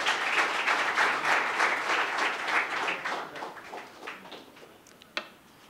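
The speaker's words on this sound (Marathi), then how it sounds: "आशिषसाठी देखील आपण टाळ्यांचा कडकडाट करूयात." A crowd at a book launch claps for Ashish, a dense burst of applause that starts full and gradually thins and fades, ending with a few scattered claps.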